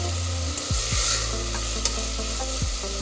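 Beans, tomato, carrot and fresh peas frying in a little oil in a pan, with a steady loud sizzle broken by a few scraping stirs of a spoon.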